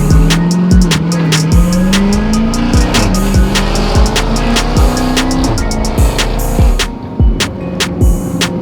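A powerful car engine revs hard and climbs through gears, with tire squeal and sharp exhaust pops, loud and close throughout.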